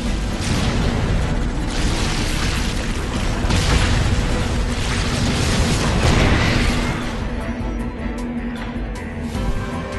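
Explosion in the Halo Wars video game: a sustained, loud rumbling blast with booming, crackling texture that holds steady and then tapers slightly near the end, heard with no talk over it.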